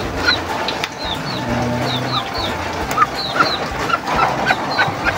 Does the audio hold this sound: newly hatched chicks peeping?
yes